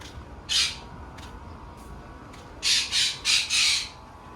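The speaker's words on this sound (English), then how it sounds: "That bird is calling me, bro." A bird outdoors beside a residential central air conditioner lets out one harsh squawk, then after a pause a quick run of four loud, raspy squawks, with a few fainter calls between over a low background hum.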